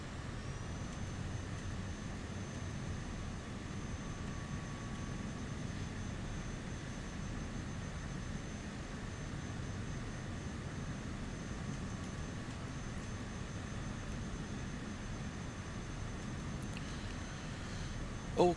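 Cessna 208B turboprop taxiing after landing in a flight simulator: steady, low engine hum with a faint whine, even and continuous throughout.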